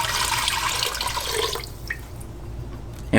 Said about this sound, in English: We're going to pour into the pot.